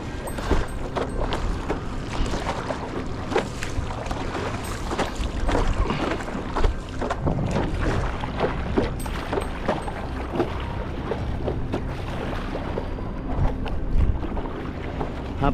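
Small boat paddled against a strong wind off Arraial do Cabo, with steady water splashing and sloshing and constant wind buffeting the microphone, continuous and close.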